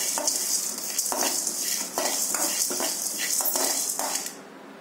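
Ingredients dry roasting in a pan for a chutney give a continuous dry crackling hiss, broken by repeated scraping strokes of a stirring spoon, close and steady, with no talk.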